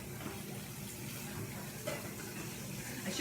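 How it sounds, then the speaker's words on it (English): Cold water runs from a kitchen tap over cooked cauliflower, a soft, steady splashing stream, fairly quiet and uninterrupted. "I'm going to give it a little bit of run a little bit of cold water on it."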